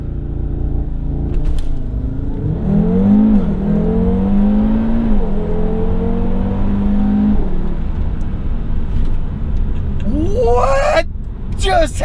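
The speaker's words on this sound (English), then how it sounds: "We're going to be tearing up some back roads with the Audi Rs3." A 500 hp Audi RS3 launches hard on back roads, its engine note rising through several gears in loud stepped revving pulls heard from inside the car, and passengers exclaim near the end.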